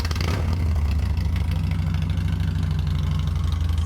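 A Harley-Davidson Dyna motorcycle engine idling close by, a steady, loud, low-pitched rumble with an even, lumpy pulse and no voices.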